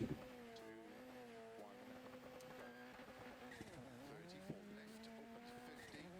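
A high, sustained tire squeal in a racing video game, with a whining engine tone that bends and slides in pitch, steady throughout with no talking.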